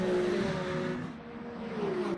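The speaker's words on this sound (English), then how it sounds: "Watching one of the Porsches go through now." A Porsche hypercar passes in a sim racing broadcast, its engine a steady mid-loud drone that dips and shifts pitch slightly as it goes by, with no talk over it.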